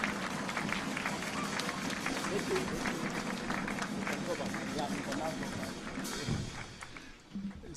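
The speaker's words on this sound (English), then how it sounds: "some clap for the installation of the VC" An audience at the Technical University of Kenya graduation ceremony claps for the installation of the Vice Chancellor, a steady patter of many hands with voices over it, thinning near the end.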